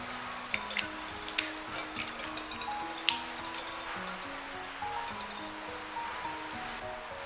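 Eggs in a bowl of lightly salted water are rinsed and then scooped out to drain. Faint, steady running and trickling water fills the whole stretch, broken by a few light clinks.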